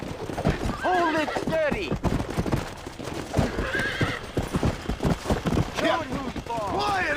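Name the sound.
Bronco horse neighing and stomping while being broken, video game Red Dead Redemption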